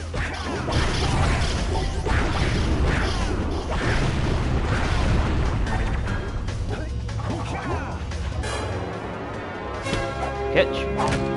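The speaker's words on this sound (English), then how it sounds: "the explosion of the Dark Eco containers" Dark Eco containers blow up in the Jak and Daxter: The Precursor Legacy video game, giving repeated crashing bursts, thuds and whooshes of mechanical clatter, with a voice talking over much of it.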